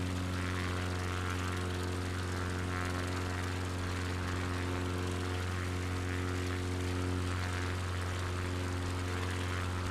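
Small propeller bush plane in flight over Finland, heard from inside as a loud, steady engine drone with strong tonal hum, continuous and alone without talk.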